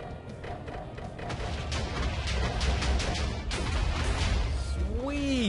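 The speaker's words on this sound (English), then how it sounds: "It dropped the bombs from two different stations, the left and right." Bombs dropped from a Lancaster bomber in the Minecraft Flan's Plane Mod land as a run of crashing, thudding explosions, loud and continuous over steady game noise, with no talk.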